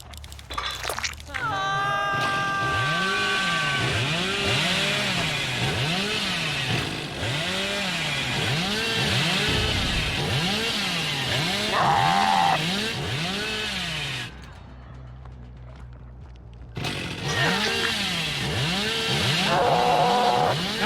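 Hillbilly's chainsaw in the video game Dead by Daylight revs in repeated rising and falling surges over a steady motor drone, loud and close, dropping out briefly near the end before roaring back.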